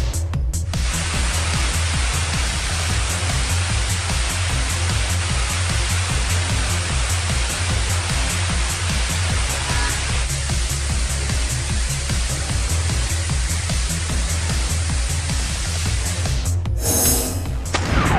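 Water gushes down the Vattakanal falls in a loud, steady roar, continuous throughout, with a brief rustle near the end.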